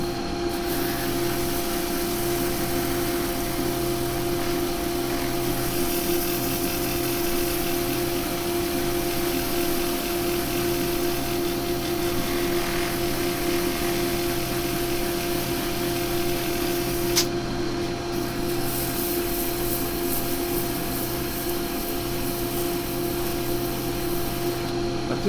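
A wood lathe spins continuously while its piece is sanded with 180 grit paper, giving a loud, steady motor drone with faint abrasive rubbing and no speech.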